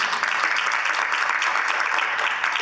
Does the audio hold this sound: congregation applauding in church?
yes